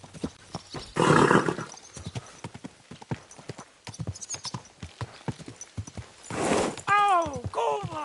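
Hooves clip-clop in a steady rhythm in the video game Kingdom Come: Deliverance II, with a horse whinnying near the end and brief voice-like sounds in between.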